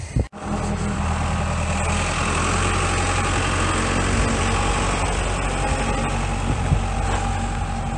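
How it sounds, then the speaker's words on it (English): A park ranger's tractor engine idling outdoors at a logging museum state park in Chiloquin, Oregon, a steady low rumbling drone that holds evenly for several seconds after a brief thump at the start. "That's what you heard. It's a park ranger on a tractor."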